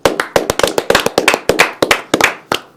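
A few people in a TV studio clap together in a quick, close, crisp burst of sharp distinct claps, each loud and uneven in rhythm, with no talk over them.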